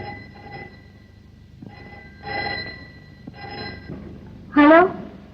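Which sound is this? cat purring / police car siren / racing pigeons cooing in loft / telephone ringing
telephone ringing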